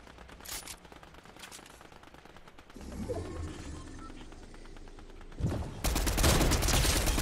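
Rapid automatic gunfire in Fortnite: rattling bursts of distant shots, then a much louder, close stream of fire toward the end.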